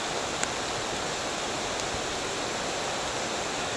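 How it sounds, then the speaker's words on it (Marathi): Heavy rain pouring down steadily near a riverside cattle shed, a dense unbroken hiss filling the air with no voices. "भरपूर मोठा पाऊस आलाय"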